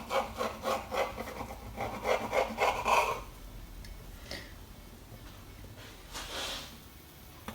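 Excess pastry is trimmed off sausage rolls with a blade, giving a rapid series of close, scraping cuts for about three seconds, followed by softer scattered rubbing sounds.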